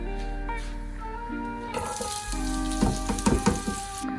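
Chopped onions hit hot oil with a soft sizzle, joined by a few scraping and stirring clicks against the pan, under a steady background hum.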